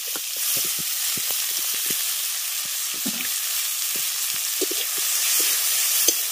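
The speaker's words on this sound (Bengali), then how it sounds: "এবার পেঁয়াজটাকে আগে ভালো করে ভেজে নেব" Chopped onions sizzle and crackle as they fry in hot oil in a home kitchen pan, a steady close hiss with scattered pops, no voices.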